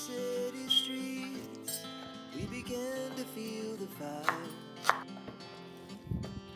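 Frozen Indian gooseberries (amla) are peeled and cut with a few sharp, isolated knife taps, quiet and spaced apart over soft background music.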